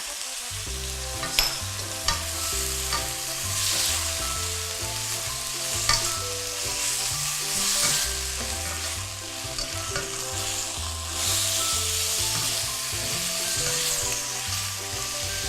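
Noodles are stir-fried in a wok with light soy sauce, oyster sauce and sugar: a loud, continuous close sizzle with a few sharp clacks of a spatula and surges as the food is tossed, under soft background music.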